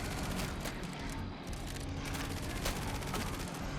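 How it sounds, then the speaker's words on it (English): Dense, continuous gunfire from exploding, bouncing bullets in a roguelite action video game, with rapid overlapping shots and bursts rattling loudly and without pause across the whole stretch. "So the bullets are going to explode and then keep bouncing."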